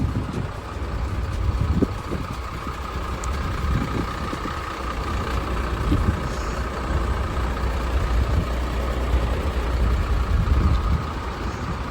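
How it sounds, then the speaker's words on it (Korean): A 2008 five-ton four-wheel-drive dump truck sits idling, its heavy diesel engine giving a constant, loud, low rumble that holds steady throughout with no speech over it. "이제 5톤 사륜 덤프입니다"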